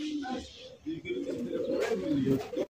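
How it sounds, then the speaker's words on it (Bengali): A white racer pigeon coos up close in a short, throaty burst of soft rolling calls, with faint background noise. "এখানে হচ্ছে সিঙ্গেল একটা কবুতর দেখতেই পাচ্ছেন, হোয়াইট রেসার কবুতর"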